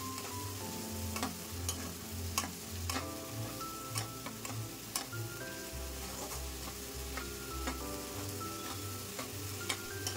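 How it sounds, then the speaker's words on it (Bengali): Spice paste for a vegetarian raw banana malai curry sautés in hot oil with a steady, close sizzle, punctuated by sharp, regular ticking taps as a spatula stirs it. "মশলা তেলের সাথে খুব ভালো করে মিশিয়ে কষিয়ে নেব।"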